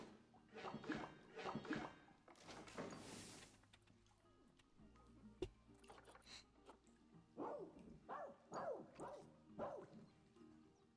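An animal barks repeatedly in the zoo-building video game Planet Zoo, a series of rhythmic yelping calls at moderate level, broken up by mechanical clicks, watery sounds and a sharp tap in the middle.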